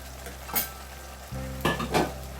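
Masala for paneer tikka masala sizzles in oil in a pan: a quiet, steady frying hiss with a few stirring scrapes and clinks, alone with no talk.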